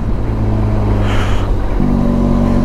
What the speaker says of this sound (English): So this bike is quite happy chugging along at low revs.